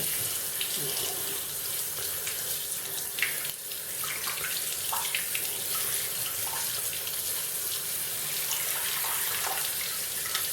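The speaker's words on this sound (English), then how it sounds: "Once in a while you actually then need to go and rinse it out under water" Running tap water splashes steadily over a waterproof Philips electric shaver being rinsed, a continuous close-up hiss and patter with small irregular splashes lasting about ten seconds.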